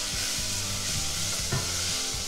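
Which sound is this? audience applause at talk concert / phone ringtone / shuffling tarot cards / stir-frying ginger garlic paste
stir-frying ginger garlic paste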